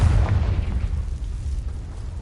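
A Confringo spell blast in Hogwarts Legacy, heard as a loud, close, low rumbling boom that peaks at once and then decays slowly over two seconds, with no voices.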